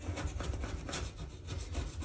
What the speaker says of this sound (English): Be sure you use a plastic scraper, not a metal one, because that will scratch the porcelain.